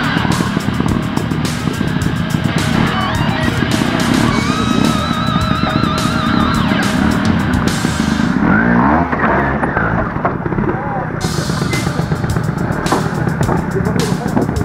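A trial motorcycle is ridden across obstacle bridges, its engine revving loudly and almost without pause, with throttle blips and a brief surge partway through.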